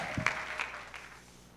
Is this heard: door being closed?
no